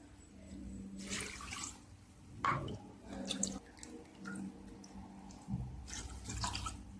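Thin third-extract coconut milk is poured into a pressure cooker holding onions and garlic for onion lehyam. Irregular splashing and dripping come in a few close bursts, with no talking.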